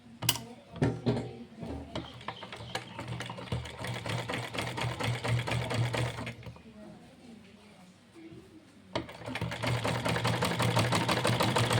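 Sewing machine stitching the side of a cotton wrestling langot at home, a steady mechanical whir in bursts with a short pause, under quiet background noise.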